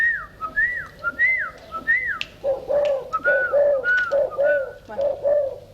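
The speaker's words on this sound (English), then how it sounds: "A dove cooing contest, competitors turned on by a referee bird with handler" Doves at a cooing contest in 1972 Thailand repeat rounded, rising coos in a steady series, one clear voice after another at close range with no talking.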